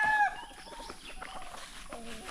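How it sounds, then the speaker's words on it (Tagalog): Native chickens on a small farm, with one bright sharp call at the start followed by softer scattered clucks and rustling at moderate distance. "mga native na chicken"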